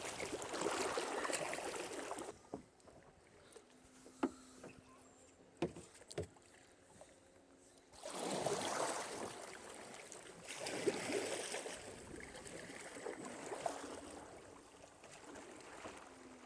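Kayak paddle strokes splash and swish on Lake Glenville in the Nantahala National Forest, coming in steady bursts with pauses between them, a few hollow knocks against the hull, and light wind noise.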